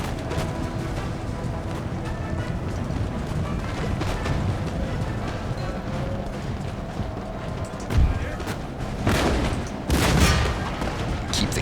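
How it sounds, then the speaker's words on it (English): Booming cannon fire in Empire: Total War over constant battle noise, with a few heavier blasts standing out toward the end. "Keep the cannon firing here."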